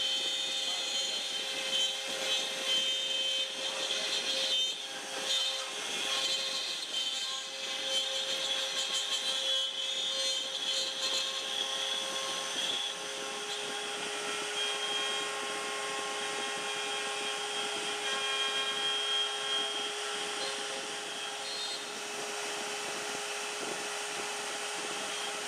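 CNC router V-carving a logo into a glued-up, surfaced pine tabletop, a continuous high whining spindle and cutting hiss at steady level with slight dips, no voices.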